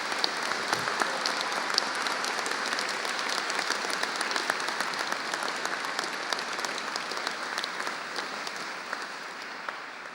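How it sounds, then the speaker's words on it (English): A large audience at a graduation ceremony applauds the graduates' families and supporters, with dense, sustained clapping filling the hall at an even level for the whole stretch. "join with me once more in celebrating that by applauding those who have given you such support during your time here"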